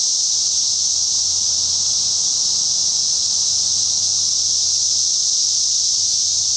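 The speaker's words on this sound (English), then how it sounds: "wanted to see and hear a tree with cicadas" A dense, steady buzzing drone of Brood X cicadas in a tree on May 27 fills the air continuously, loud and unbroken from start to end.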